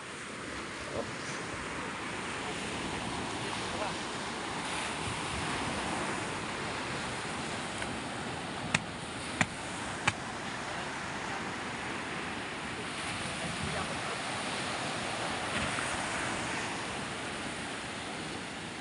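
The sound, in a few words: small sea waves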